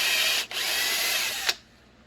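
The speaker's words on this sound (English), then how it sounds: "I'll take my clamp and the 7/32 drill bit that I use for my retention spots, and I drill out the MRD." A 7/32-inch drill bit bores out a clamped part, giving a loud, steady high-pitched power-tool whir that briefly dips, runs on for about a second, then stops abruptly.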